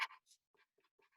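Quiet scratchy strokes of a pen or pencil on paper, a few short scribbles close by in an otherwise silent room.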